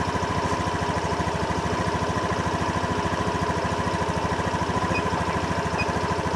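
A Honda motorcycle with a stuttering, misfiring engine runs close by in a steady, even pulsing drone, held at a fairly constant pace throughout with no voices.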